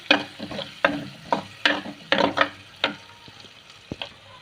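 Vegetables frying with turmeric in a pan, a rhythmic series of sharp scraping stirs over a soft sizzle, about eight strokes spread across the clip, close and fairly loud.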